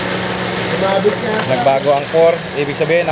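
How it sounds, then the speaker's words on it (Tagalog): A Toyota Altis engine idles steadily during an ignition coil test, with a low, even rumble that runs through the clip under someone talking close by. "Ayan, nagbago yung makina, buo to."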